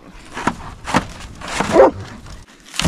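Several dogs bark and whimper outdoors in deep snow at an Alaska homestead, loud close yips and barks in short irregular bursts.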